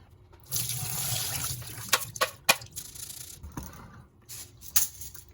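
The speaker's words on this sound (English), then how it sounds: "just toss it into some water and give it a good rinse around" Water runs and sloshes as jasmine rice is rinsed, first a brief steady flow of tap water, then close splashes and swirling clicks of grains moving in the water.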